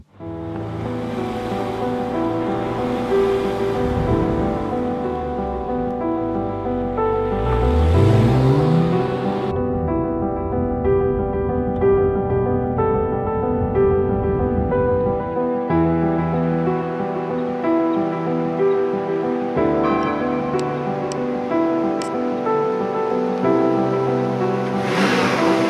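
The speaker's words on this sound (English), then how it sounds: "You can hear the pleasant sound of the boxer engine from behind." A 2014 Porsche 911 Turbo S of the 991 generation cruises on the highway, its rear boxer engine a steady low drone heard from the cabin under wind and road rush, rising and falling in pitch as the car speeds up and gears change.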